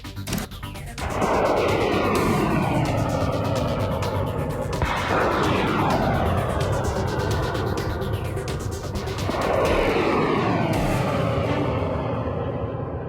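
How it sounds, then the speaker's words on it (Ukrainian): A HIMARS multiple rocket launcher fires at targets: three loud, abrupt launch blasts about four seconds apart, each trailing into a sustained roaring rush that fades and echoes, with no speech. "Ось так наші сили оборони цілять по окупантах із Хаймарс."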